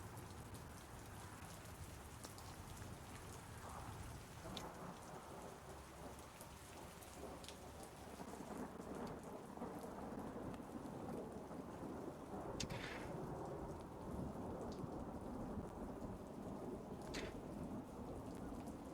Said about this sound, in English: do you hear both the fire and the rain?